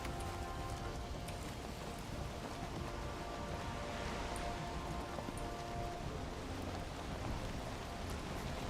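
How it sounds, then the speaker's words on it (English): Steady video game rain hisses evenly throughout, a dense wash of falling drops with a faint low rumble of thunder underneath and no voices. "now in the rain"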